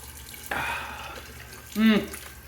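Cold water gushes from a bathroom tap for rinsing after a shave, a steady close rush lasting about a second, followed by a short voiced sound.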